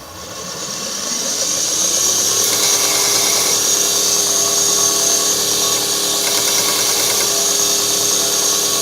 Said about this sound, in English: so we'll just go and clean it up with the sander